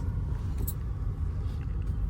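A car driving along a road gives a steady low engine and road rumble from inside the cabin, continuous and even, with faint passing swishes and no speech.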